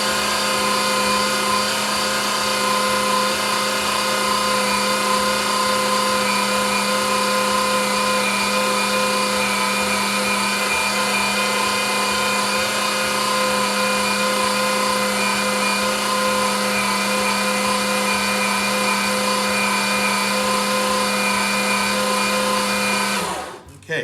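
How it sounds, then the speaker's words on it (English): An electric meat grinder extrudes ground meat for jerky onto parchment, a loud, steady motor drone with a rapid mechanical rattle running unbroken for over twenty seconds, then cutting off abruptly at the end. "the meat comes out from the grinder, it pushes the parchment and it sits onto the parchment"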